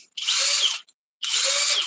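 A DeWalt cordless drill in turbo mode whines at high speed in two bursts, each about two-thirds of a second long, with a short silent gap between them, loud and close.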